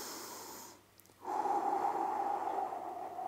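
Deep breathing during a stretching exercise: a long exhale fades, a brief pause follows, then a strong, drawn-out inhale close to the microphone, with no talking.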